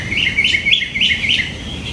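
A bird chirps outdoors in a rapid series of bright, repeated tweets, close and fairly loud, with quiet background noise and no talk.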